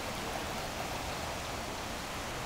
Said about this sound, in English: this is a river that's completely run over its banks